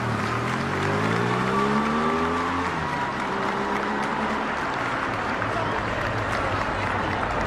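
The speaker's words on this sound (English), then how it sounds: "you can hear from the cheers that the people here in the Mall are showing their love and respect for the royal family" Dense crowd cheering and clapping along the Mall in London during Queen Elizabeth II's funeral procession, a steady roar with passing vehicle engine tones as the King's motorcade approaches.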